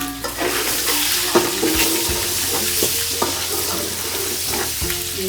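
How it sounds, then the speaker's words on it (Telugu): Onions frying in a pan for a Sunday egg biryani, a steady loud sizzle with scraping stirs and occasional utensil knocks, close up and continuous. "చూడండి గైస్, ఆనియన్స్ ఫ్రై."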